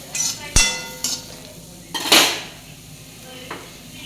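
Onion being stirred and roasted in oil in a pan for a spicy bitter gourd curry: a soft background sizzle broken by several sharp clinks and scrapes of a spoon against the pan, with no talking.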